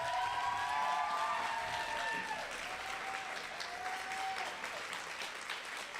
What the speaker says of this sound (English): We want to give you a round of applause.